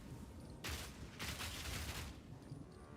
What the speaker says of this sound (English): When I push the button once, it fires 3 bullets.